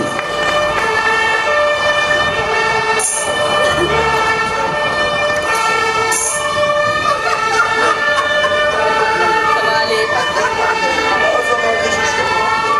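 A fire engine siren wails loud and continuous through a busy outdoor scene, its pitch sweeping up and down over a dense mix of engine noise and crowd sound, with voices in the background.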